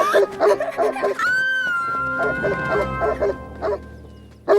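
A dog barks and yips in quick bursts on a mountain path in an animated Heidi cartoon, with a long whimpering whine in between and people talking and laughing around it.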